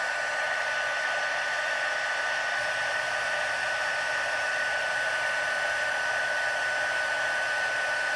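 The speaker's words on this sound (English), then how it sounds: "you can see because my gun's hot, now this time it's heating up a lot faster" A hot heat gun blowing steadily to melt embossing powder on paper, a constant loud fan roar with an even whine, unbroken and alone for the whole stretch.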